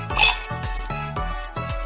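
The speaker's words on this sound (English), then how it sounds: "Drop in some ice cubes." Ice cubes dropped into a glass for iced coffee, a few bright clinks and knocks in quick succession, close and clear against a faint music-like background.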